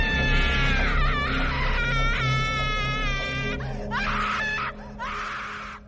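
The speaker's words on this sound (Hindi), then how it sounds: "किसी औरत की तेज चीख की आवाज आई और साथ ही मन कपा देने वाली रोने की आवाज" A woman's loud scream followed by eerie, wavering crying in a horror sound effect, high wailing cries in several bursts over a low droning background.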